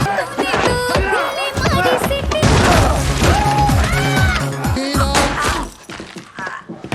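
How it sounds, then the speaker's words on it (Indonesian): Police gunfire in a movie chase scene: loud, rapid bursts of shots and crashing, shattering impacts packed into a dense, busy soundtrack that fades toward the end. "Orang itu pun mati karena tembakan polisi yang sedang mengejar Kit."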